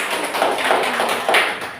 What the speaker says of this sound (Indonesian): Tepuk tangan untuk Mbak Elsa